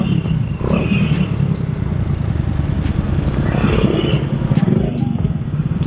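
A motorcycle engine idles and rumbles steadily nearby, with a few brief clattering bumps over the constant engine noise.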